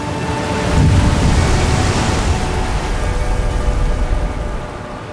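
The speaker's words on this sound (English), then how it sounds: "when you just listen to the sound of the waves" Ocean waves surge and wash with a deep, hollow rush that swells and recedes, a steady roar of water echoing inside a sea cave in Sweden.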